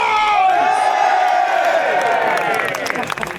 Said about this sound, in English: Braintree, make some noise!